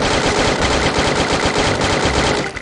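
An MP14 gun in the video game Free Fire fires a fast, continuous burst of rapid shots, loud and close, running unbroken for a couple of seconds before cutting off.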